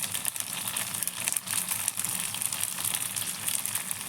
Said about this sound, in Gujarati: હવે પૂરી તળવાની છે